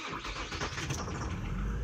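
An Infiniti I35 engine cranks and fires but struggles to keep running, with a rough, uneven, low rumble that stays fairly quiet and close throughout, with no talk over it.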